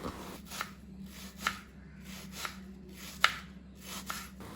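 Onions are chopped on a board for prawn biriyani, giving a handful of soft, sparse knife taps spaced irregularly over quiet room tone, close and faint.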